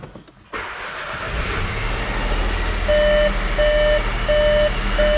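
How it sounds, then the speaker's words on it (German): Skoda Scala Monte Carlo with a 110 PS engine being started from inside the cabin: a door thud, then a steady engine hum joined by a row of evenly spaced electronic warning chimes. "Aber jetzt steige ich mal kurz ins Auto ein und starte das Auto mal kurz."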